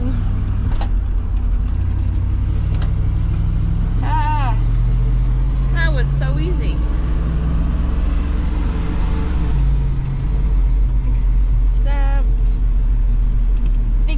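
Pickup truck driving on winter roads, a steady close engine rumble with shifting tone and revs throughout, while someone talks over it.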